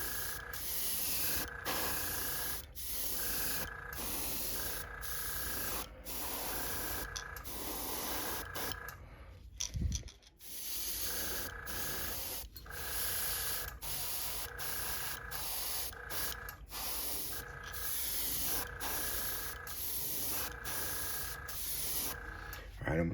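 An airbrush hisses in repeated short bursts, painting a fishing lure, close and steady, with brief pauses between sprays and a quiet stretch midway.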